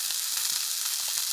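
Food fries in a hot pan over a campfire in the woods, giving a steady, close crackling sizzle with no talk.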